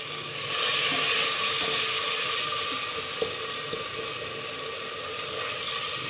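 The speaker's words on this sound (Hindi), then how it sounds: "थोड़ा सा पानी शामिल करेंगे कि मसाला जले नहीं।" Loud, steady hissing sizzle from water splashed into masala frying in a pan for aloo methi sabzi, a dense continuous roar with faint clinks near the middle and no talk.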